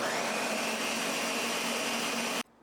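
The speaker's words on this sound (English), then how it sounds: "this is my trusty blender" A blender mixes a black bean burger mixture with a loud, steady whirring drone that cuts off abruptly near the end, leaving quiet, with no voices.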